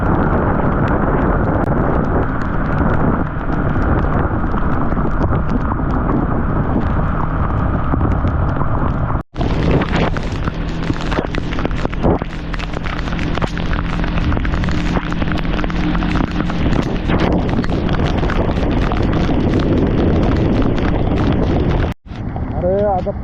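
Heavy monsoon rain near Panvel pours down while riding a KTM NS200 motorcycle, a dense continuous hiss of rain and wind roar that changes texture partway through, with someone talking over it.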